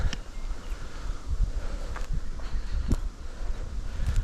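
Strong outdoor wind buffets a camera microphone near a riverbank in the countryside, giving a continuous rough low rumble with gusty surges and no speech.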